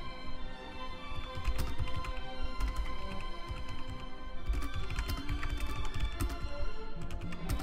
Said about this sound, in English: I'm messing up my typing right now.